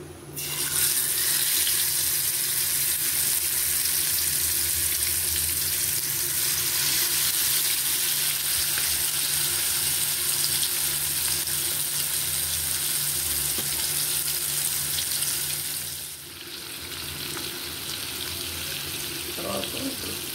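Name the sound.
marinated fish pieces frying in oil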